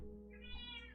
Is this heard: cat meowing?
yes